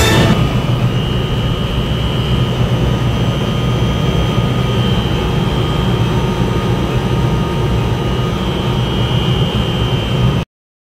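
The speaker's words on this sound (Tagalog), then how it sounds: "So bago natin paandarin yung pump," A ship's ballast pump runs at the ballast water treatment plant, giving a loud, steady mechanical drone with a constant hum that continues unchanged before cutting off abruptly at the end.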